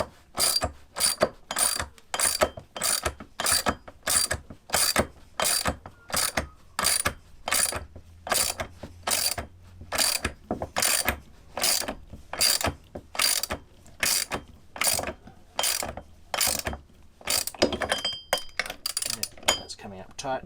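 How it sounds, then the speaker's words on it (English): A 21mm socket wrench tightens bolts on a boat's rudder stock fitting for the emergency tiller. A steady, loud ratcheting clicks in regular bursts, close to the microphone, and nearly continuous throughout. "Coming up tight, so that's a 21mm socket on there"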